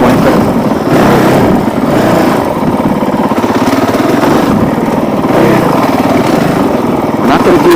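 A Honda CRF450L dual-sport motorcycle engine buzzes and revs in pulses while riding, loud and close, with wind and road noise and a rider's voice talking over it.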